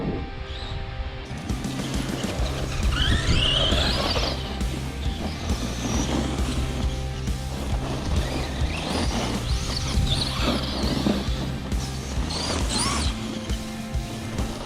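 An RC car with a Radiolink 90A brushed ESC on a 4S battery drives through grass, its motor whining and rising in pitch over rustling and thrashing blades, close and steady.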